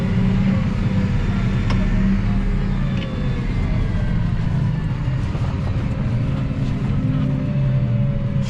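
A New Holland T7.245 tractor engine drones steadily and loudly throughout, a continuous low rumble with no pauses, driving over slightly bumpy ground.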